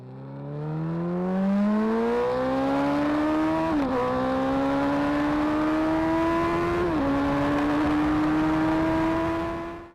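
A Suzuki Hayabusa motorcycle engine screaming at speed, the tone climbing steadily through gears with two quick shift dips, loud and close, then fading out at the end.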